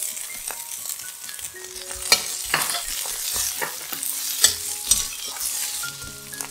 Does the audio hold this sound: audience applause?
no